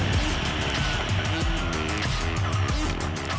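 A Formula E single-seater race car drives hard, its electric drivetrain giving a loud, close whine that sweeps up and down in pitch with repeated acceleration and lifts, over constant road and wind noise.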